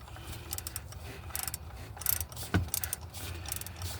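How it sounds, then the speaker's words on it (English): Ratchet tightening bolts on the tensioner pulley of a 2012 Chevy Avalanche 5.3L, with rapid clicking pawl bursts in short runs, close and moderately loud over low workshop hum. "So now I can go ahead and basically ratchet these back tight."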